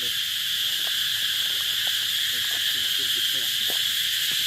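Cicadas keep up a dense, continuous, high buzzing drone that stays level throughout, with faint scattered low sounds beneath.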